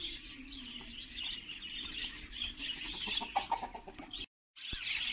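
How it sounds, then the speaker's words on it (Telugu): Chickens clucking and small birds chirping around a village house during a festive visit, busy overlapping calls at moderate distance, with a brief dropout near the end. "చూడండి ఎన్ని పిట్టలు ఉన్నాయి అక్కడ."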